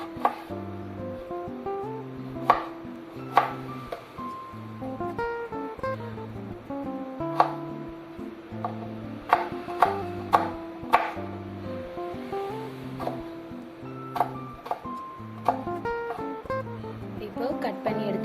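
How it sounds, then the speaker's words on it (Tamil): A knife chops beetroot into small pieces on a board, with repeated crisp taps in an uneven but steady rhythm over soft background music. "இது வந்து கொஞ்சம் சின்ன சின்ன பீஸாக கட் பண்ணி எடுத்துக்கலாம்"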